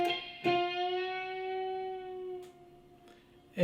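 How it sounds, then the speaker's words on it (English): A bent blues note on a guitar string, plucked once and sustained with a slight pitch rise as the string is pushed, ringing clearly and decaying over a few seconds before quieter follow-up notes. "I'm bending the string as I play."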